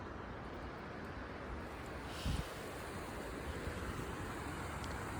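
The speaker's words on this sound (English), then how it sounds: "The wind is very powerful up there." Strong wind on a hiking trail in a nature preserve, a steady loud rushing roar buffeting the microphone throughout, with a brief thump partway through.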